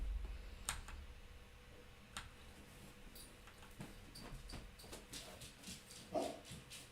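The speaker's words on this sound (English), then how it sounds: "Oh, quit it, dog." A dog barks a few times at middle distance, short sharp yelps spread through the stretch over a low hum and faint ticking, with the loudest near the end.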